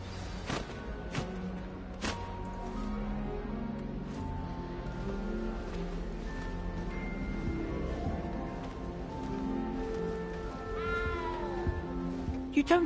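A frightened cat in the game Hogwarts Legacy mewing repeatedly, drawn-out plaintive meows rising and falling over quiet background game sounds, with a few sharp clicks and a brief spoken moment.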